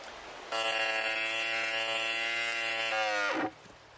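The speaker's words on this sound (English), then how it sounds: "So for the first time ever, it was pulling water out of the well." A well pump at a Rocky Mountain homestead drawing water up from the well, a loud steady harmonic drone that starts abruptly, holds for about three seconds, shifts pitch slightly and then cuts off.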